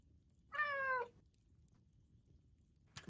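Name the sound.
cat meowing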